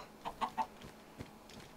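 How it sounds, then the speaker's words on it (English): A chicken in the Minecraft video game gives three short, evenly spaced clucks close by, followed by a few quieter scattered game sounds. "Come here, chicken."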